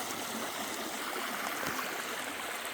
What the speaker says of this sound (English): Creek up here is still flowing pretty hard